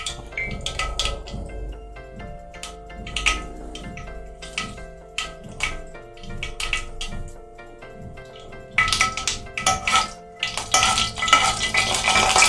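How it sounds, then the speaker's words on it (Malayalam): Mustard seeds pop and fenugreek seeds roast in hot oil for a quick jujube (ber) pickle, with a utensil stirring the pan; sharp crackles and metallic scrapes come repeatedly close up, growing busier and denser toward the end, with no talking. "അപ്പോൾ ഇവിടെ കടുക് പൊട്ടാൻ തുടങ്ങി"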